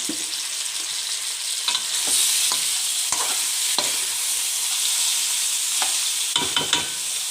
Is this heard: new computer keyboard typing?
no